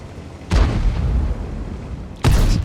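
Tank cannons firing in a World of Tanks Clan Wars battle on the Westfield map: two heavy booms about two seconds apart, each with a loud, low rumbling tail, with no talking.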